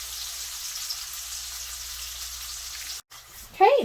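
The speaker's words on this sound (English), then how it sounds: "with all of this bacon grease, it'll definitely help kind of fry them up" Mushrooms and bacon fry in bacon grease, giving a steady close sizzle that holds for a few seconds before a brief break and a short clatter near the end.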